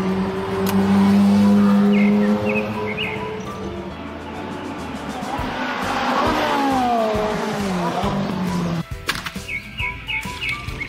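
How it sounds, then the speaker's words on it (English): A Ferrari drives by with a loud, shifting engine roar and some tyre squeal. The engine fades briefly mid-pass, then returns, and faint bird chirps run underneath. "Mobil Ferrari."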